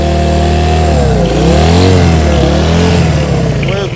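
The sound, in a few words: 1971 Honda CB100 motorcycle engine running and revving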